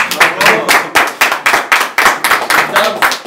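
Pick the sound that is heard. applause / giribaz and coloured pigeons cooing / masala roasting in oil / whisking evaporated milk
applause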